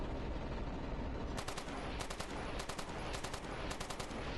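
Bursts of automatic gunfire from a target range in the MAG PlayStation shooter, several short volleys of rapid shots repeating at a steady pace over a constant background hum.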